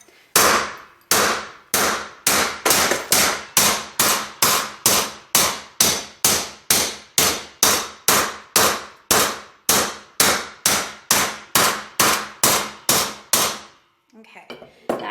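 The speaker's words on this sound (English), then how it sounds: "We'll try this with our drywall hammer." A drywall hammer strikes metal on a bench block in about twenty-five loud, sharp, evenly spaced clangs, each ringing briefly, heard close up and alone, followed by a short pause and faint handling noise.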